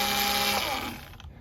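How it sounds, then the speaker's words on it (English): A power drill bores a hole into the side of a pumpkin gourd, a brief close whirring buzz that winds down and fades within about a second and a half. "I'm going to drill a hole in the side of Mickey's head"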